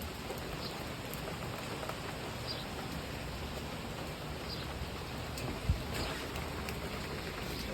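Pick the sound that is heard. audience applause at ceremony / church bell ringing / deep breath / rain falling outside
rain falling outside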